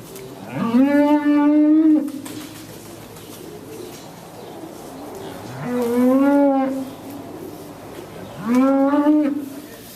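A cow on a farm moos three times, long low calls with rising pitch, close by, separated by pauses of quiet outdoor background.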